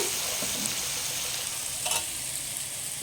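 Asafoetida tempering fries in hot oil for mango rice, giving a steady, close, hissing sizzle with a few faint pops and clicks, with no talking.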